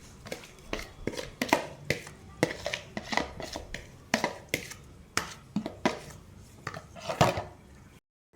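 Olives, lemon pieces and washed peppers are tossed together by hand in a wide bowl, making irregular close clacks, knocks and soft scrapes. The bursts recur for about eight seconds with no speech.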